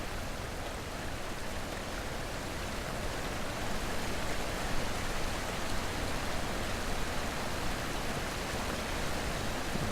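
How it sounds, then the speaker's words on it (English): A waterfall in the video game The Witness fills the scene with a soft, even hiss of falling water, moderately quiet and unbroken, with no talking. "There's a good waterfall sound."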